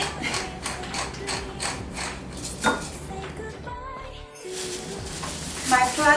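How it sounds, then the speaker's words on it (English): A pepper mill grinds black pepper over baby back ribs, producing rapid repeated ratcheting clicks in bursts, close and fairly loud, with kitchen handling noise between. "Then I'm going to put some freshly ground black pepper."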